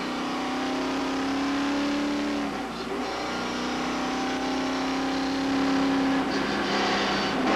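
A race car accelerates uphill out of turn 3 at Bryar Motorsports Park in Loudon, New Hampshire. Heard from inside the car, the engine is a loud, steady drone whose pitch dips briefly and then climbs again as it pulls hard.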